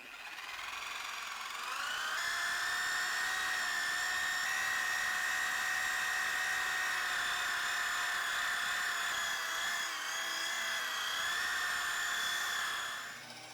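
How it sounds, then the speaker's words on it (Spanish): A car polisher buffs scratches out of car paint, spinning up into a loud, steady high whine that holds for several seconds, dips briefly and then winds down. "ahora sí comienzo a usar la pulidora"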